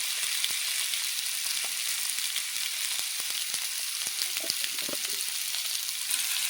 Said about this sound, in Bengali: মাছের তেলে আমি আলুটা ভেজে নেব